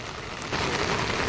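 Rain pours down at the Har Ki Pauri ghat in Haridwar, beside the swollen Ganges: a dense, steady wash of hiss that grows louder partway through, with no voices.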